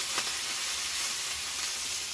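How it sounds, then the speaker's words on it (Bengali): Onion fries in oil in a pan while a curry is being cooked. A brief, even hiss of sizzling carries close and steady throughout, with no voices over it. "পেঁয়াজটা একটু ভাজা ভাজা হোক"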